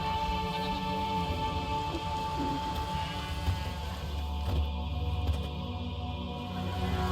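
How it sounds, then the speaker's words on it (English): Rain pours steadily in the video game The Witcher 3, a continuous hiss of falling water over a low ambient hum, with no voices heard. "There's no point standing here in the rain."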